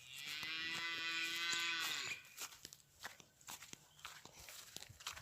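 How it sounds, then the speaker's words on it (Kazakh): A calf moos once, long and fairly close, in a rural farmyard, followed by scattered footsteps and light movement noises. "Ана жерде екінші бұзауым келе жатыр."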